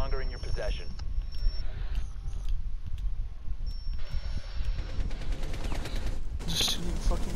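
Gunfire in the tactical shooter Rainbow Six Siege, rapid bursts of game shots mixed with electronic tones and clicks, steady and loud, while voices talk over the action.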